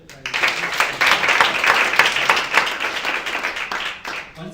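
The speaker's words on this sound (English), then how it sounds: "A hand clap, guys." Hand clapping and applause from an audience at a global entrepreneurship week event, starting abruptly and holding as a loud, even wash of claps before thinning toward the end.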